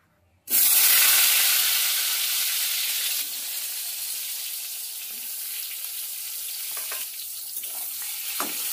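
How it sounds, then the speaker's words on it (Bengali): Eggplant pieces, first salted so they release water, fry in a pan for a mixed summer vegetable curry. After a brief silence a loud sizzle bursts in and settles into a steady close hiss, with a few soft stirring knocks near the end. "এবার এর মধ্যে প্রথমে বেগুনটা ভেজে নেব।"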